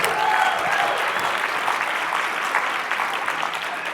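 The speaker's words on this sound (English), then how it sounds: "So give yourself a round of applause, too." A meeting audience breaks into a full round of applause, dense steady clapping from many hands that holds for several seconds and slowly tapers, with no talking over it.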